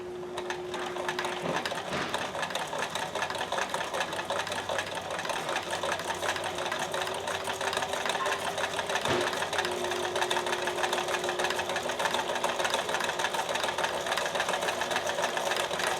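A sewing machine runs continuously at a low presser-foot pressure setting during troubleshooting of a stitching problem, giving a steady, moderately quiet mechanical whir with faint clicks throughout.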